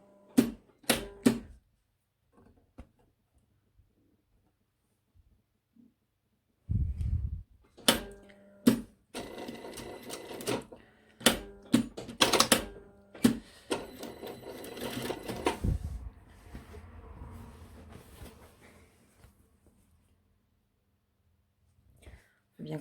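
A sewing machine stitches the elbow seam of a blazer, running in short stuttering bursts and then a longer steady run, close and clear, with quiet talk in the gaps between stitching.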